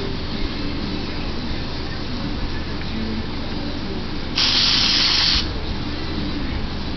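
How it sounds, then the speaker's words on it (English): Aerosol spray can blasting cleaner onto Honda 110 three-wheeler carburetor parts, one steady hiss of about a second standing out over a constant background of low noise. "Take your spray can."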